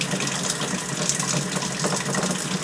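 Water running wide open through the tap of a VEVOR tankless on-demand electric water heater, a steady close gushing hiss at full flow, continuous and alone.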